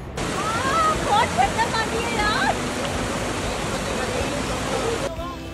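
Cold river water flows steadily beside a riverbank near Kasol in Himachal Pradesh, a broad continuous rush under faint background voices, running close and even for about five seconds before cutting off.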